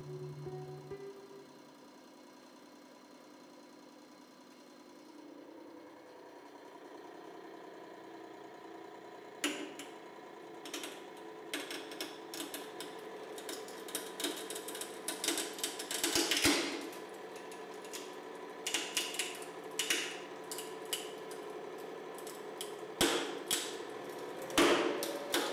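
A hydraulic press pushes through titanium armor plates from a Soviet bulletproof vest, needing over 80 tons of force. A low mechanical hum builds, then sharp cracks, creaks and snaps come more and more often as the plates give way.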